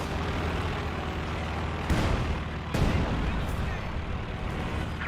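Artillery barrage firing in Company of Heroes 2 during a World War II battle, a dense continuous rumble of combat with two sharp blasts standing out amid the din.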